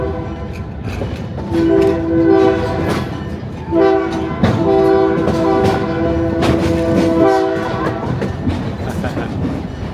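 An Oregon Coast Scenic Railroad train rumbles along with clattering wheels while its horn sounds in long blasts, loud and close, with faint voices in the background.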